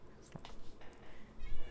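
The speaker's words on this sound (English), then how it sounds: "I hear you, cat." A cat meows a couple of short times, close by but fairly soft, against a low murmur of room noise.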